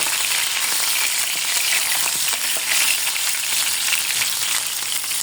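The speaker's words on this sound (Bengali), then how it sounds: "এটা ভাজা হতে হতে দেখো এখানে ভাজা হতে থাক" Pieces of rohu fish rubbed with turmeric and salt fry in a pan with a loud, steady, crackling sizzle that runs unbroken and close, with no voices.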